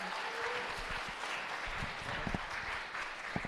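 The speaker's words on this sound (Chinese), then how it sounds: "我们再一次拍手来谢谢这5位年轻人今天来跟我们的分享" A church congregation at a Sunday service claps for a group of young people, a soft, fairly distant spread of applause with scattered sharper claps toward the end.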